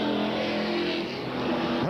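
Super stock race cars roar along an oval track out of the final turn onto the main straightaway, a loud steady engine drone with a brief pass-by swell at the end.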